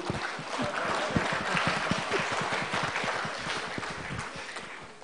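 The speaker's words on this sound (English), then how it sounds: "So a big round of applause to everybody who presented papers" Applause from delegates at a public administration conference, a steady wash of many hands clapping at moderate volume, gradually fading toward the close.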